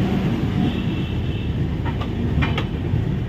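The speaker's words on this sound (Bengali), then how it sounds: "আর আমাদের ট্রেনটা এখন ছাড়লো" Shalimar–Secunderabad passenger train 22849 pulling away from Santragachi, heard from on board as a steady low rumble of wheels and carriage with a few faint metallic clicks and no talking.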